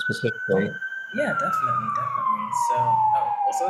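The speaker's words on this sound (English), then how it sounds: "I'm so sorry for the sirens." An emergency vehicle siren wails on a New York street, one long steady tone slowly falling in pitch, loud and close under continuous conversational talk.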